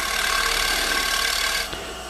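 Lathe tool shear scraping a spinning wood piece at about 45 degrees, a steady close rasping hiss that drops off near the end, with no talk.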